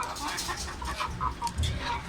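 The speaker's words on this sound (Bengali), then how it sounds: "আমার ফার্মে দেশি মুরগি, ছোট্ট ফার্ম," Native chickens clucking on a small farm, several soft, irregular clucks at moderate distance over a low background hum, with no voices.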